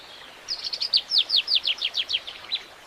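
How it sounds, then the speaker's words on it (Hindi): Small birds chirping in a quick run of a dozen bright, high tweets spread over about two seconds. The calls are fairly close and clear over a quiet background, with no voices. "कितनी प्यारी चिड़ियां हैं।"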